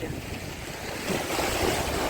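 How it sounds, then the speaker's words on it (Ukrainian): Black Sea waves wash and surge on a windy beach in Odesa, growing stronger partway through, with steady wind noise throughout. "щось хвилі посилюються"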